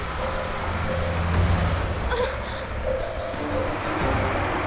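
Car driving along a road, a steady broadband engine and road rumble holding throughout at fairly even loudness, with no talk in the clip.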